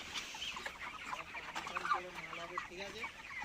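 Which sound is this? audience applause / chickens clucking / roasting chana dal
chickens clucking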